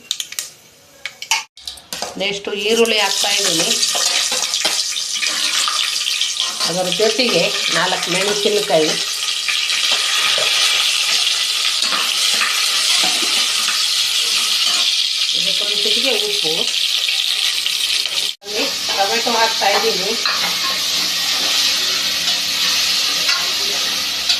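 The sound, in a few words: whole spices (mustard, cumin, cinnamon, cloves, cardamom) sizzling in oil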